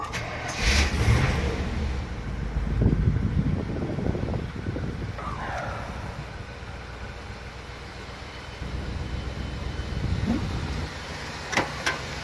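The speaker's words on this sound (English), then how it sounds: "Cold start." An old truck with a Turbo 400 transmission and stock exhaust cold-starts, the engine cranking and catching, then settling into a steady, moderately loud idle rumble with a few later revs.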